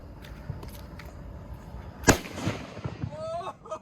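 A firecracker goes off on New Year's Day with one sharp close crack, followed by fizzing crackle and a rising whistle, over faint background chatter.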